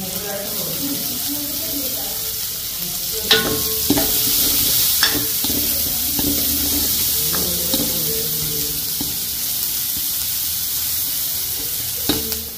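Onions and green chilies fry in hot oil with a steady sizzle, broken by occasional scraping and clinking as they are stirred in the pan.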